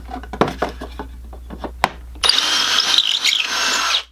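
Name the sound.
drilling pocket holes with jig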